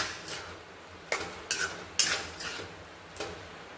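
Dry-style spiced potatoes (aloo bhuna) get stirred in a pan, a soft background sizzle broken by several sharp scraping and clinking strokes of the spoon at irregular intervals, close up with no voices.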